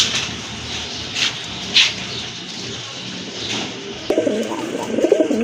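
Pigeons coo repeatedly nearby in soft, throaty bursts, followed by rustling and fluttering movement toward the end.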